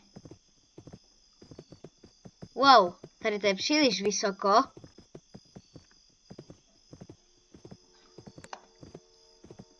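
Regular hoof clip-clops from a walking horse in the Roblox video game, steady and fairly close, with a burst of whinnying midway and someone talking briefly.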